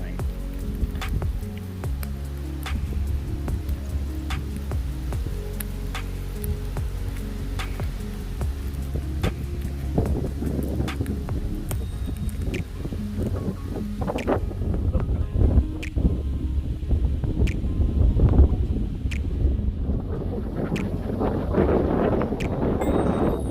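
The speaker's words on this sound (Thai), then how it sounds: "ลมแรงมากวันนี้" Strong wind gusting over rice fields in rural Thailand, buffeting the microphone with loud rumbling and crackling, with scattered clicks and rustles throughout.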